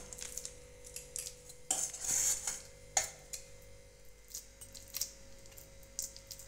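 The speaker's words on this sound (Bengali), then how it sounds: "এবার আমি চাল কুমড়োটা এতে দিয়ে দেবো।" A utensil scrapes and taps against a ghee-greased plate as an ash gourd mixture is spread across it, giving soft intermittent clinks and scraping strokes, close and quiet, with a faint steady hum behind.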